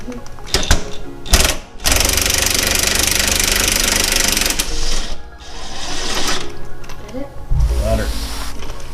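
Bolts are undone on Ford Mustang torsion bar end links, loud mechanical ratcheting and rattling bursts close by, with brief pauses and a short voice near the end.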